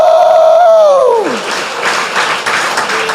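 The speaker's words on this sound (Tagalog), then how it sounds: "Malakas na palakpakan. May kasamang hiyawan." At a church gathering, a single loud drawn-out whooping shout slides downward in pitch, then gives way to a burst of close, loud crowd applause and cheering that holds strongly for a couple of seconds.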